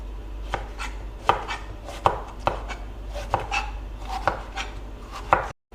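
A knife slices summer vegetables into thin 3-4 mm slices on a board, about eight crisp, evenly spaced chopping strokes ringing out clearly in a quiet kitchen, with no talking.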